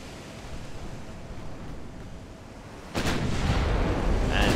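Naval gunfire from Ultimate Admiral: Dreadnoughts, with high-explosive shells from two- to four-inch guns: a steady roaring rumble of distant fire that swells abruptly into a louder, denser barrage partway through.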